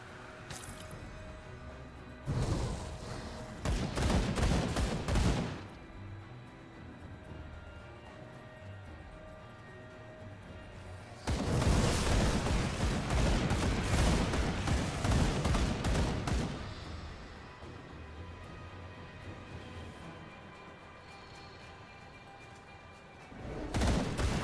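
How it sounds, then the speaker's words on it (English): Sustained bursts of weapon fire in the Grim Dawn action role-playing game, two long loud volleys of rapid shots separated by quieter ambient stretches, with another burst starting at the very end. "I'm just holding down my finger and opening fire."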